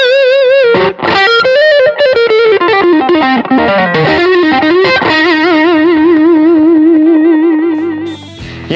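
Electric guitar lead tone with several pedals stacked, giving a distorted, chorused, reverberant sound; loud sustained notes with vibrato, slides and bends, ending abruptly.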